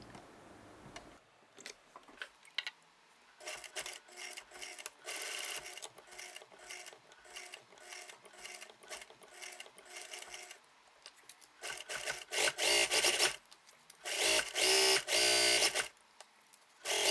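A sewing machine stitches around the collar of a blouse made from Liberty fabric. It runs in short, close mechanical bursts of whirring and clicking, broken by pauses and ending with a few longer, louder runs.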